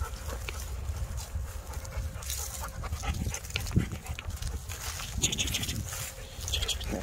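A Rottweiler pants steadily and close by, a continuous breathy rhythm running through the whole stretch, with light rustling and shuffling around it.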